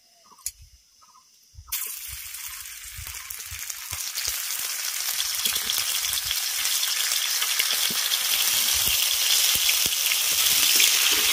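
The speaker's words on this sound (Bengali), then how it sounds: "তখন আমি এর মধ্যে দিয়ে দেব সর্ষে, আদা, কাঁচা লঙ্কা বাটা" Mustard, ginger and green chili paste drops into hot oil with whole-spice tempering for a vegetarian water spinach dish, bursting into a loud, steady sizzle after a brief quiet clatter, and the frying hiss grows slightly as it continues.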